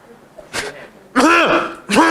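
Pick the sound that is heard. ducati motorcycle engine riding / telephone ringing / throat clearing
throat clearing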